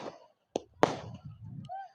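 Fireworks crackle and bang at a village Dussehra Ravan Dahan celebration, two sharp loud pops followed by a brief crackling tail and faint hiss.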